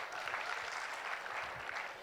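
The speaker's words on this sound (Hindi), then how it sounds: "जोरदार तालियां हो जाए आप सभी लोगों के लिए मेरे दोस्त।" Steady audience applause fills a large program hall during a motivational speech event in Jaipur, a continuous wash of clapping with no gaps.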